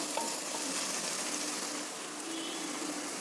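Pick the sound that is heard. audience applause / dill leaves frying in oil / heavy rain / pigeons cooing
dill leaves frying in oil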